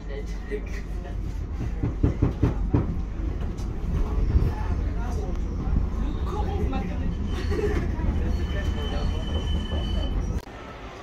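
A tram ride in motion: a steady low rumble of the car with rattling and occasional wheel squeal, continuous throughout and ending abruptly.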